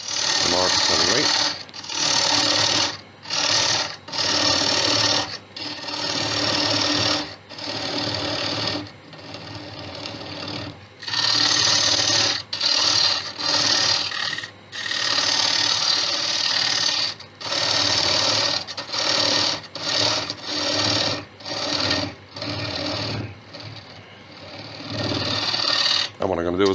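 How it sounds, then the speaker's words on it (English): A wood lathe spins while a gouge hollows out a small wooden peanut bowl, producing a loud, steady whirring drone broken by frequent short pauses and bursts of cutting, close by throughout. "now I'm going to hollow this out"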